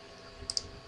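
Two quick, crisp computer mouse clicks sound close together, soft and isolated against a quiet background hum.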